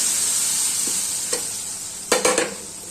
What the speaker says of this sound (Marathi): तडका तयार झाला आहे कांदा लसूण लाल झाला आहे आता आपण ही यात डाळ टाकून लगेच झापून घ्यायचं